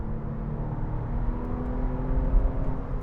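A Porsche 911 40th Anniversary edition's engine runs with a deep, steady rumble and a smooth rising whir as it pulls, heard close and continuous without talk.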